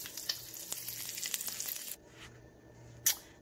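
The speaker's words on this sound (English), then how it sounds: "I have my bacon frying" Bacon frying in a pan, a faint steady sizzle with crackling pops that stops abruptly halfway, followed by quieter hiss and a single sharp scrape.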